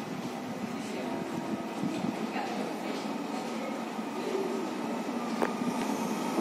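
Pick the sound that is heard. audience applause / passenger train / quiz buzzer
passenger train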